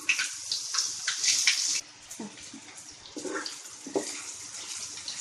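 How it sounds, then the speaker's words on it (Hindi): Chopped onions sizzle in hot oil with curry leaves in a pan for vegetable poha. The frying hiss is bright and close, loudest at first, then settles into a softer, uneven crackle, with no talking. "ऑनियन ब्राउन होने तक फ्राई कर लेते हैं।"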